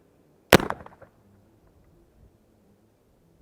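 A single sharp rifle shot from a CVA Mountain Rifle, fired at a swinging man-sized target 350 yards away outdoors, cracks loudly at once and then fades into a short rumbling tail and quiet wind.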